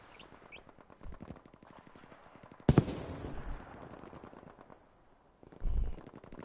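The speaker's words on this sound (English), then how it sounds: "This is going to be a clash of gunfire on the First road." Video game gunfire during a squad battle along a road, rapid faint rattling bursts with one sharp louder crack in the middle and a thump near the end, fairly distant overall.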